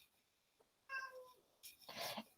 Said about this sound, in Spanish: se escucha por atrás sonar mi gata